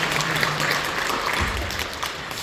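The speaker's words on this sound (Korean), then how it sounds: "여러분 박수 주시죠." A church congregation in Incheon applauds to welcome someone during a Sunday service: a continuous, fairly loud wash of many hands clapping, steady and unbroken, with faint room murmur beneath.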